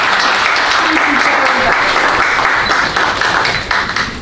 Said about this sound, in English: a big round of